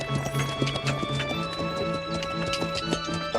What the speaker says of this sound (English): Pull the horses up over there.